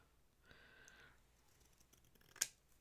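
Scissors snip through craft ribbon once: a short, sharp cut, close and clear, after a brief scrape of handling, while the ribbon is trimmed to match lengths for a Christmas craft.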